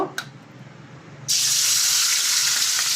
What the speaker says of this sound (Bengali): এই যে এবার এটা আমি লাল লাল করে এই তেলের মধ্যে একটুখানি ভেজে নেব